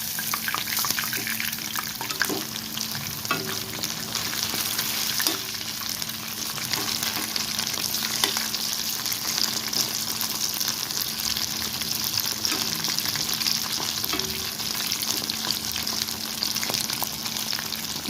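Green chilli kababs deep frying in hot oil over a medium flame, a dense, steady sizzle and crackle that runs unbroken and fairly loud, with a few faint scrapes and clicks of a utensil.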